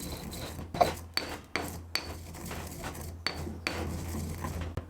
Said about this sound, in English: Into a pestle and mortar, I'm putting 2 tablespoons of fennel seeds and giving them a light grind.